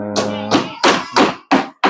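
Nails are hammered into a wooden cabinet in six sharp, loud, close strikes at a quick, fairly even pace, with a brief voiced sound before the first blow.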